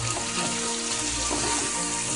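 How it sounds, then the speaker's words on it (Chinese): Scallion, ginger, garlic and fermented black beans stir-fried with pork in hot oil for red braised pork belly, giving a steady, loud, hissing sizzle throughout. "葱姜蒜豆豉都放在这油里炒一炒"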